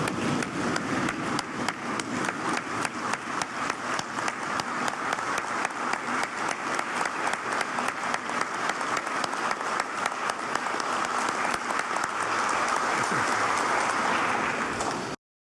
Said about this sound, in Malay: memberikan tepukan yang gemuruh kepada semua wira dan wirawati petugas Barisan Hadapan Negara